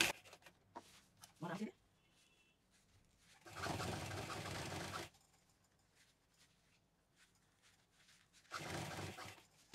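A sewing machine stitches a fabric bag made from leftover cloth, sounding in short bursts of whirring, one brief, one longer in the middle and another near the end, with quiet handling between.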